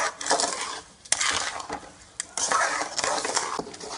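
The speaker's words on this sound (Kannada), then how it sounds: "ಇದನ್ನೇ ಚೆನ್ನಾಗಿ ಮಗಚಬೇಕು." Sugar being stirred in a pan (bāṇale) for mango coconut burfi, giving scraping, clinking spoon-on-metal strokes in irregular bursts, fairly close and moderately loud with no talk.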